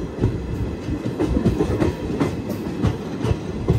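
Train 12604 rolls into a station platform with a rhythmic clickety-clack of wheels over rail joints, loud and close, with no voices.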